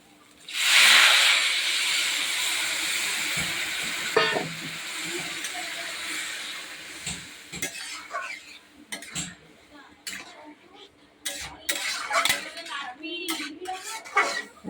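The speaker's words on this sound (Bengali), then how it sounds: "এবার জলটা দিয়ে দিচ্ছি।" Water poured into a hot pan of sautéed spices for khichuri gives a sudden loud sizzling hiss that slowly fades, followed by clinks of utensils against the pan while a person talks.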